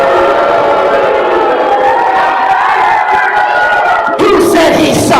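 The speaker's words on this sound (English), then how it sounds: "I said let me hear you cheer for Caleb." Loud, continuous cheering from a wrestling crowd fills the hall, a dense roar of voices that swells with a fresh burst of shouting near the end.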